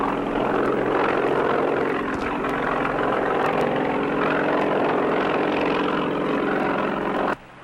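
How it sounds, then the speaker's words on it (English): A helicopter approaches over the sea. Its engine and rotor make a loud, steady droning roar that holds level throughout, then cuts off abruptly just before the end, with no talking. "They've got a helicopter on the way to pick you up."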